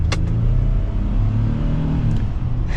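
A 2024 Ford F-150 STX 4x4 pickup accelerates under throttle, its engine rumbling steadily and fairly loud from inside the cab. Faint rattles of loose items come through alongside it.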